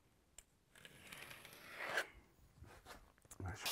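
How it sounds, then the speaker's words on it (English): The edge of a thin wood veneer sheet is sanded by hand in a workshop, giving quiet, uneven rubbing and rasping strokes that come in short bursts, close and faint. "I like to sand the edge, just take any fuzz off."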